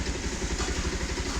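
A motorcycle engine idles steadily nearby, a continuous low rumbling throb with faint mechanical clatter.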